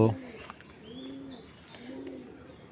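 Racing pigeons in a loft give soft, low, rolling coos, two drawn-out calls close by and fairly faint, over a quiet background with light room noise.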